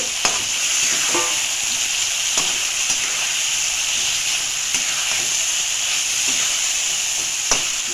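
Parshe and tangra fish fry in hot oil with a steady, close sizzle and crackle, a few sharper pops and spatters breaking through the continuous hiss.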